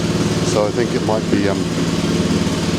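Crytec CREX6-M mini excavator engine running at low revs with a steady, rough mechanical drone, close up, while someone talks over it.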